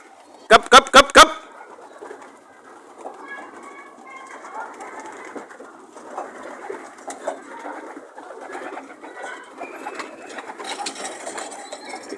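Racing pigeons coo outdoors with a low, steady murmur of calls running throughout, after a few loud, sharp bursts at the start.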